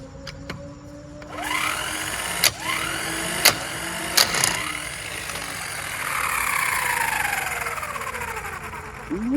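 A VEVOR 12V electric impact wrench gun, supplied with a motorized scissor jack, runs with a steady whirring motor, and several sharp hammering bursts break through at a close distance.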